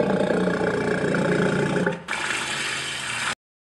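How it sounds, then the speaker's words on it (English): A walrus gives a loud, rough, sustained roaring bellow in an Arctic setting, a dense growl that eases slightly partway through before cutting off abruptly. "Walrus."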